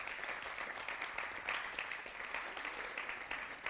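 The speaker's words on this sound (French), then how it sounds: "vous pouvez l'applaudir" A television bowling match audience applauds the players during introductions at a mixed team challenge, a steady wash of clapping that holds evenly throughout without talk.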